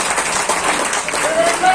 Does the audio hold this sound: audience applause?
yes